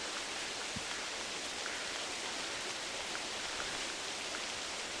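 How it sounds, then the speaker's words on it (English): Steady rain in theHunter Classic's Timbergold Trails, a dense, even hiss of falling water with faint scattered drops, continuous and enveloping. "rain's coming down now"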